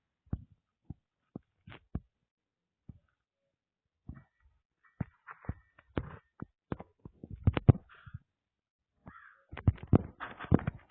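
Crow cawing in the Granny horror video game, a series of sharp isolated caws and clicks spread over the stretch, growing busier and louder toward the end against a quiet background, with no talk.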